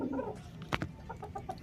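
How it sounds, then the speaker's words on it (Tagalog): Soft, quiet clucks from a bantam chicken, a few short notes spaced irregularly over faint background noise. "manok natin, bantam"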